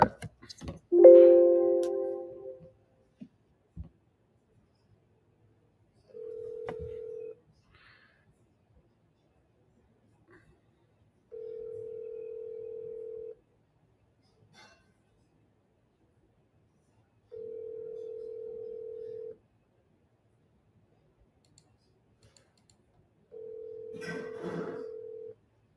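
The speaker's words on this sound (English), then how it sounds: "Your call has been forwarded to voicemail." An outgoing phone call rings four times in evenly spaced, steady two-second tones with long silent gaps before going to voicemail, after brief talk at the start.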